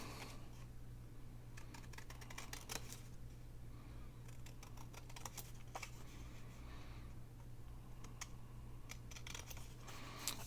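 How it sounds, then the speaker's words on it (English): Scissors snip through paper around the edge of a round stamped label, a faint, steady run of small crisp cuts in a quiet room. "And I'm not turning my scissors when I'm doing that."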